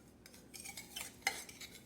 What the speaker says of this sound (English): I'm going to cut a small slice and see how it tastes.